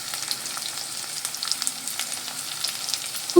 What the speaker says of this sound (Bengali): এইভাবেই পেঁয়াজটা ভেজে নিতে হবে